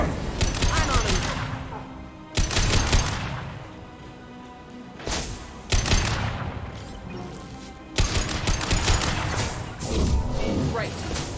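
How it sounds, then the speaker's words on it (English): Concussion-shot gunfire in the video game Mass Effect 2, with several loud booming blasts spaced a few seconds apart, each decaying into a rumble, amid game music and effects. "Firing concussion shot!"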